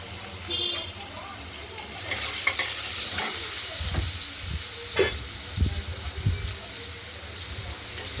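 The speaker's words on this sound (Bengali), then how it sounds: "আলুগুলোকে আমরা ভেজে নেব।" Potatoes fry in a pan over tempered nigella seeds, bay leaf and dried chilli, a continuous sizzle broken by spoon scrapes and clatters as they are stirred and turned.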